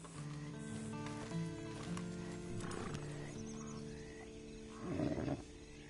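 A horse in the Red Dead Redemption 2 video game, with faint hoof clops and a brief snorting, whinnying burst near the end, set against a low ambient game music bed with no speech.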